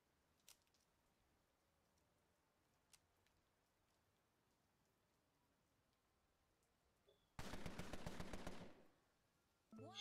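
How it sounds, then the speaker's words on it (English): Burst-fire gunshots in Empire of Sin: a dense, loud rattle of rapid shots lasting about a second and a half after near silence, followed by another short loud burst at the end. "let's see if we can burst fire"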